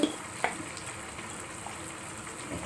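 Sour Colocasia (elephant ear) leaf curry is stirred in a pan. A gentle simmering sizzle runs throughout, with a couple of sharp spoon knocks against the pan near the start. No speech.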